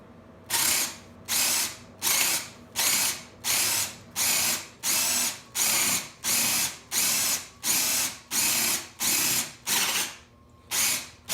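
A power drill bores a hole through wood while a sawbuck is built. It comes as about a dozen loud, evenly spaced bursts, each roughly half a second long, close to the mic with short pauses between them and no talking.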